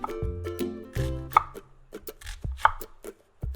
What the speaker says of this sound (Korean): 양파는 완전히 썰지 말고 칼집을 넣는 것처럼 썰어야 깍둑 썰기 하기 쉬워요.